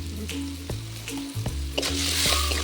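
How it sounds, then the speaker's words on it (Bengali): Pieces of mango fry in hot oil in a pan for a rui fish curry with potatoes, giving a close, steady sizzle with a light stir, under soft background music. "আমটাও ভেজে নেব।"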